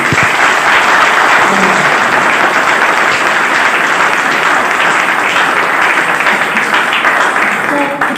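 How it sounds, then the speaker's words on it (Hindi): Loud, sustained applause from a seminar audience clapping for a speaker, a dense, steady roar of many hands lasting several seconds with no talking over it. "एक बार उनके लिए जोरदार ताली"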